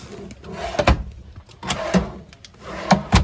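Drawers below the counter of a 2015 Thor Axis 24.1 RV being opened and shut, giving several short knocks and slides at close range with no talking.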